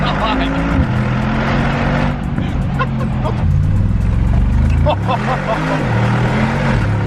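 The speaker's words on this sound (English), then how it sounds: "we're going for a rip in the new G-Wagon" A Mercedes G-Wagon with a stage 1 tune accelerates hard, its engine roaring loud and close with rising pitch sweeps through gear changes, while a person talks over it.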